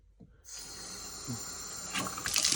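A hotel tap is switched on, and water starts running after a brief pause, a soft, steady stream that grows a little stronger toward the end. No one speaks.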